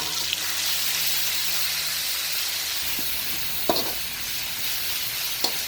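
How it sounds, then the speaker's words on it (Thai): Ingredients for Thai tamarind chili paste stir-fry in a hot pan, a loud steady sizzle with a few sharp spatula clacks and scrapes spaced through it, close by. "ลงไปผัดให้มีกลิ่นหอมนะครับ"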